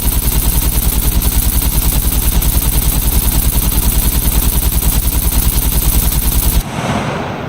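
An AK rifle in the SCUM video game fires on full auto at a turret in one long, loud, rapid burst of evenly spaced shots, then cuts off abruptly.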